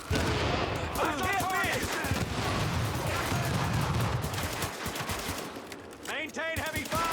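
Heavy video game gunfire rattles in sustained bursts from several weapons, dense and continuous with overlapping shots, while a voice shouts in bursts over the fire.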